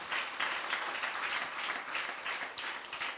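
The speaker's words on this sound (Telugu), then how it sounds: "స్వామికి అందరూ కూడా చప్పట్లు కొట్టాలి గట్టిగా గట్టిగా" An audience claps loudly in unison for Swami at a devotional gathering, a dense sustained burst of applause with rhythmic surges throughout, no speech over it.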